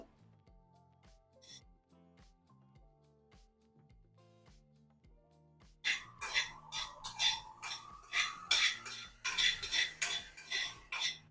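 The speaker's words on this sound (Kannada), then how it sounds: "ಇದನ್ನು ಕೂಡ ನಾವೀಗ ಫ್ರೈ ಮಾಡ್ಕೊಳ್ಳೋಣ ಕೊತ್ತಂಬರಿಯನ್ನ ನಾಲ್ಕು ಅಷ್ಟು ನಾನು ಹಾಕ್ತಾ ಇದ್ದೀನಿ" Coriander seeds roasting for homemade kashaya powder, stirred in a pan with a spoon: soft scattered clicks at first, then from about six seconds a busy run of loud scraping and rattling strokes, close and steady, with no talk.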